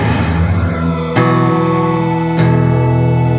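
Guitar run through a reverb effects unit with an unconventional, smearing character, two sharp plucked attacks each blooming into long, sustained washes of tone that ring and overlap without pause.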